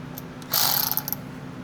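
A ratchet tightens a 12 mm rear differential drain plug on a Prairie 360 ATV, giving a short burst of close clicking that ends in a few separate clicks.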